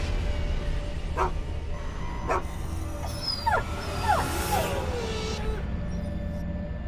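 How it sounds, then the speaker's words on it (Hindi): An injured dog in a horror film scene yelps and whimpers, a few sharp barks followed by rising, wavering whines, moderately close over a low background rumble. "तभी झाड़ियों में से एक कुत्ता बाहर आता है।"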